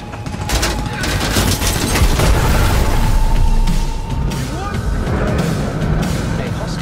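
Fireworks burst in a dense, continuous barrage during a vehicle chase in Cyberpunk 2077, loud and close with sharp cracks and booms layered over a roaring wash, while game dialogue speaks over it.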